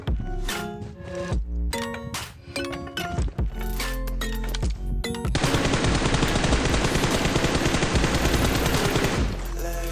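Rapid video game gunfire in bursts, then a long sustained spray of automatic shots, loud and close.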